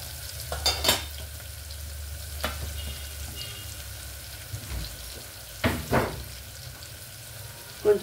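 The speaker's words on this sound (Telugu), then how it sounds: "కొంచెం ఉల్లిపాయలు మగ్గాలండి." Onions softening in a pan for a bottle gourd and tomato curry, giving a low steady sizzle broken by a few sharp scrapes and stirring clatters, with no voices.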